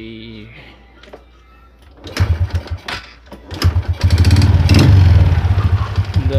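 A motorcycle engine, switched on and in neutral, cranks and catches at about two seconds, then runs with a loud, rough, revving putter that builds and stays strong to the end, with a voice briefly heard before it starts.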